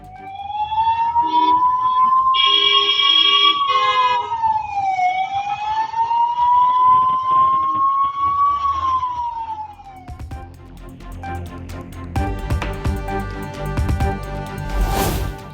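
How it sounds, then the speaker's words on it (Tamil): An ambulance siren wails in rising and falling sweeps on OMR road in Chennai, stuck in a heavy-rain traffic jam. It is loud and near, then gives way to rumbling traffic and a harsher burst of sirens and horns. "ஆம்புலன்ஸ்."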